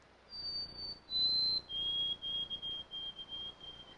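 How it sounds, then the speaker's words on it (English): A white-throated sparrow at a forest edge whistles its pure song, a few clear sustained notes each stepping slightly lower, the last drawn out in short repeated pulses over a quiet background. "The white-throated sparrow's pure whistle resonates from edges and openings in mixed and pine forests"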